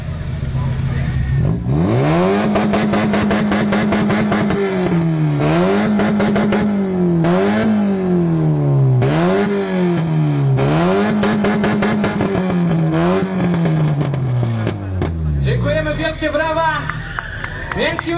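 A Golf 2 blasts its loud exhaust at a loudness contest, revving hard again and again in rising and falling wails that climb and drop rhythmically, close and very loud, with crowd noise and an announcer beneath.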